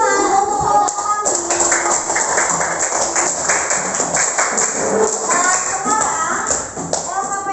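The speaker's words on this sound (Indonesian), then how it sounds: "Tepuk tangan untuk kelompok kami." Classroom applause for a student group, a steady patter of many hands clapping close by and lasting throughout, with children's voices mixed in.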